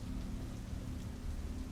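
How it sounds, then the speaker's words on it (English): Rain falls steadily outside, a soft continuous hiss with a low rumble beneath, faint and even throughout with no voices. "The rain outside hadn't stopped."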